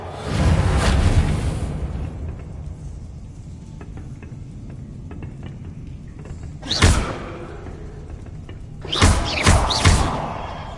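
Magical Reparo repair spell in Hogwarts Legacy, heard as a loud whooshing rush at the start, then a single sharp thud-like burst mid-clip and a cluster of crackling impacts near the end.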